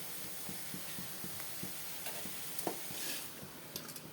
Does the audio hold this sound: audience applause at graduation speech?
no